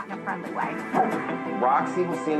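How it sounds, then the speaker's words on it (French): A dog barks several times amid voices and studio sound, the barks loud and close but mixed in with the other audio. "Elle aboie et tire sur la laisse pour se jeter dessus."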